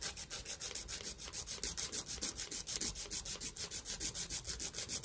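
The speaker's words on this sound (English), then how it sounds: "now I'm going to begin the filing process" A nail file rasps steadily across glued-on press-on nails, quick rhythmic back-and-forth strokes repeating close and clear throughout, with no talking.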